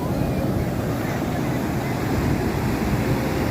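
Sea waves at the beach in Puri, a dense steady roar of surf with wind buffeting the microphone and no distinct break.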